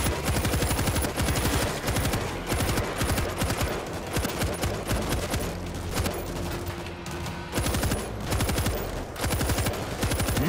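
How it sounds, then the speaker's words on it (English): Relentless automatic gunfire from the zombie shooter game World War Z, loud rapid bursts of machine-gun fire rattling almost without pause, with a brief lull before another volley. "We're hearing gunfire from the river."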